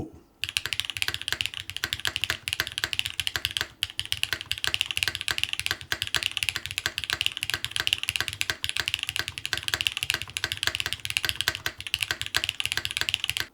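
Continuous fast typing on a Yujin Mini mechanical keyboard fitted with Keygeek Cera switches, close and crisp, with dense clicks and clacks running steadily without talk.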